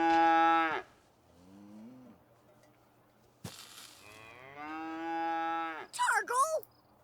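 A cow in a video game lets out several long, harmonic moos, the first loud and sustained, then lower grumbling lows and a rising call ending in a squeaky bleat-like flourish.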